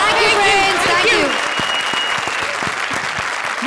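Applause and cheering from a comedy show audience start loud and dense, then settle into steady clapping with scattered individual claps standing out toward the end.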